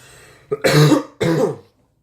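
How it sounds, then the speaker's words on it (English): Two harsh, close coughs in quick succession, each a short rough burst, followed by silence. "Sorry about the coughing."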